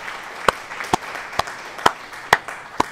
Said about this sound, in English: Applause for Tim